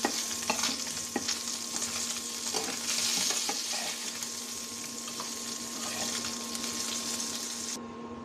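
Fish frying in hot oil, a continuous dense sizzle up close with a few light taps and clinks of a utensil against the pan, no one speaking.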